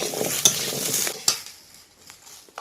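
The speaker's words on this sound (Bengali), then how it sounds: "এবার কচুরমুখী দিয়ে কষিয়ে নেব।" Taro roots (arbi) are sautéed in a pan with fried onion, garlic, green chilli and bay leaf, giving a close, hissing sizzle with a couple of sharp spoon scrapes, fading toward the end.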